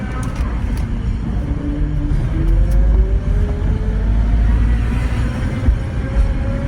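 An old BMW E34 535i barn find, sitting for years, rolls along with a steady low drivetrain rumble and a faint rising whine from the transmission, heard continuously and fairly close.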